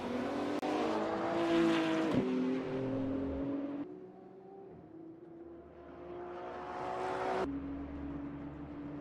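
A GT3 race car in a sim racing game screams through a sequence of corners, engine note rising and falling with gear changes and throttle lifts, loud and close throughout.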